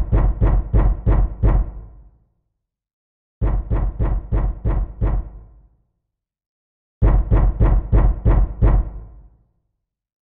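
Muffled knocking from inside a coffin in the video game Zero Escape comes in three evenly spaced bursts of about six quick, heavy raps each, loud and close with silence in between.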